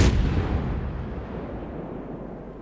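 Battleship main guns fire at the Yamato in World of Warships: a single deep, booming artillery blast that rolls out and slowly fades over a couple of seconds, loud and alone.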